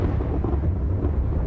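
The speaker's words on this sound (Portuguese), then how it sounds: "Um trovão distante." Distant thunder rumbles low and steady for a moment in dry African wetland country at the end of the dry season, a broad muffled roll with no voices.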